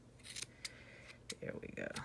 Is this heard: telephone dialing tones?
no